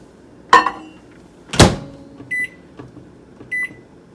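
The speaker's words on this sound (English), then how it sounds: "I'm just going to melt this in the microwave." A microwave oven in use to melt butter with minced garlic in a cup: a door clunk, then a sharper slam, then two short electronic beeps over a low steady hum.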